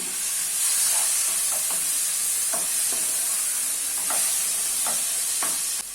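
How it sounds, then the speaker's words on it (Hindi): Finely chopped tomatoes are stirred in a frying pan for chicken liver masala, a constant hissing sizzle with regular spatula scrapes at a steady rhythm. "अभी इसमें 2 फाइनली चॉप किए हुए टमाटर ऐड कर लेना है और मिक्स कर लेना है।"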